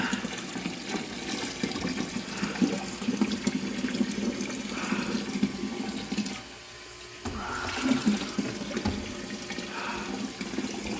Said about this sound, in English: it's about halfway full of the 5 gallons, pour it on in